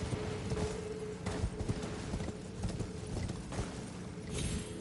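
Horse hooves clip-clop in the video game Elden Ring as a steady, moderately loud stream of hoofbeats over faint game background sound.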